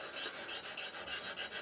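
A sharpening stone is worked back and forth along a drawknife blade, making a quiet, even rasping sound in about eight regular strokes with no voices.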